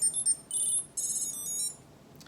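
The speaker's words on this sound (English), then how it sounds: "When you want to find your tile, ring it from the app and listen for this melody." A Tile Sticker Bluetooth tracker plays its bright, high-pitched electronic find melody in short repeated phrases, clear and alone in a quiet room.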